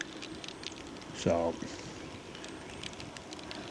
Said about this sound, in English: now it's raining hard.